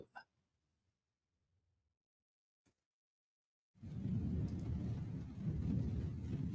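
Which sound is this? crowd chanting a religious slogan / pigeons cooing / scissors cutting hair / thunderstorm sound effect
thunderstorm sound effect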